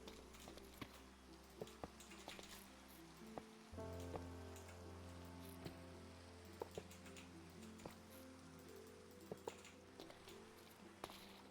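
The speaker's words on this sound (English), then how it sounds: "I need to get the rain away." Steady rain falls in a Minecraft world, a soft, even hiss with scattered brief clicks and taps, and a low drone of game music underneath.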